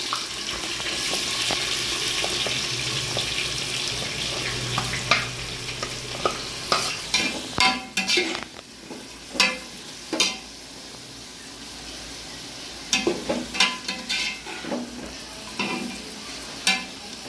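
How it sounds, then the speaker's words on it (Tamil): Onions sizzle in a hot pan under a steady hiss, with scattered scrapes and clacks of a spatula stirring at an uneven rhythm. "வெங்காயம் பார்த்திங்கன்னா நல்லா வதங்கணும்"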